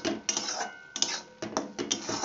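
A spoon stirs a masoor dal filling in a pan, producing a few short, soft scrapes and taps against the metal, close and fairly quiet, with no voices.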